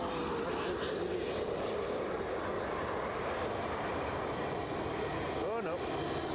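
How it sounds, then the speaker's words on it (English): Aircraft landing at Edinburgh Airport, heard as a steady, fairly distant engine roar and rushing noise throughout, with voices talking over it. "That's going to be a hard contact."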